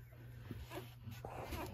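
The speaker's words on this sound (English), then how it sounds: "here is Maggie and Creed's puppies" A day-old litter of ten black and chocolate newborn puppies gives faint, soft whimpers and squeaks against a steady background hum, quiet and close-up.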